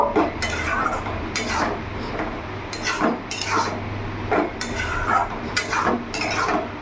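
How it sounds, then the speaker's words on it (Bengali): Taro and green chillies being stirred in a pan for a hilsa fish head curry, with a spoon scraping and clinking against the metal in repeated bursts separated by short pauses. "আর এখানে কাঁচা লঙ্কা চিড়েগুলো আমি দিয়ে দেবো। ভালো করে নাড়াচাড়া করে নেব।"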